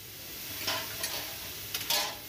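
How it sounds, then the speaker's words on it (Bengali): Ripe mangoes stirred in hot oil with five-spice tempering in a wok, a faint continuous sizzle with a few soft scraping strokes of the spatula, no voices. "আমগুলো দেওয়ার পর একটু নাড়াচাড়া করে নেব।"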